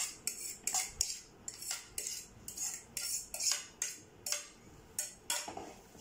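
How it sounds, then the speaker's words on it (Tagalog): Mashed banana, egg and sugar mixed in a bowl for banana cake, a fork or spoon clinking and scraping against the bowl in a fast regular rhythm, about two strokes per second, close and alone without talk. "I-mix ko siya doon sa itlog at saka sugar."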